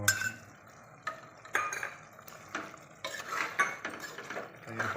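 Chicken being stirred with yogurt for a home-made biryani, a spoon scraping and clinking against the bowl in irregular bursts, close and fairly quiet, with no talking.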